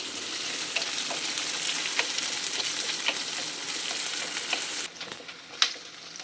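Onions and green chillies frying in hot oil for a dried-fish curry make a continuous close sizzle with faint crackles throughout. The frying quietens near the end, and one sharp clink or pop follows.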